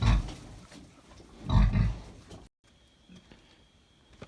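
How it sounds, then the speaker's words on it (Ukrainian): A pig, a Hungarian Mangalica or Vietnamese pot-bellied breed, grunts and snuffles close by while moving around its fenced pen, with two louder bursts of grunting before the sound drops to quiet background. "от вона свиночка ходить"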